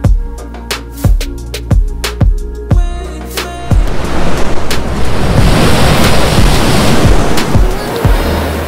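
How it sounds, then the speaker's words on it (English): Cold winter wind gusts by the sea on a calm reef-fishing morning, loud buffeting against the microphone with rhythmic thumps at first, then a steady rushing roar mixed with surf. "Like an early morning start today, like a cold winter breeze blowing"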